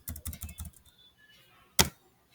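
Keys tapped on a computer keyboard in a quick burst of about half a dozen strokes, a short pause, then one sharp louder keystroke, close and clear in a quiet room.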